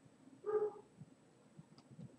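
A dog gives a single short bark or yelp, fairly faint and close, in a quiet indoor room, followed by a few soft clicks and rustles.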